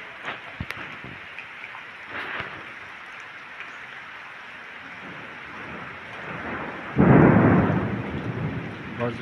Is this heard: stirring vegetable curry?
no